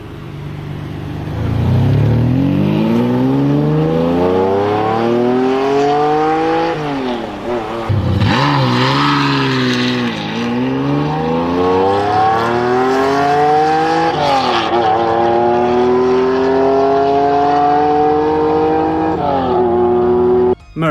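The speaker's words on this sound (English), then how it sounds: "Listen to this V12." A Lamborghini Diablo's V12 engine revs hard and loud, climbing through rising, falling and rising pitch sweeps, like gear changes under acceleration, with a brief dip near the middle and a sustained roar to the end.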